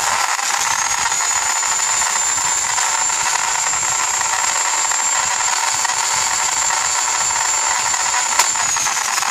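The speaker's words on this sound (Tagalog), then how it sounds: "So, ito yung drill." A power drill runs continuously while boring a hole in wood for hobby model paint clips, a loud steady whine that holds for the full stretch without pause.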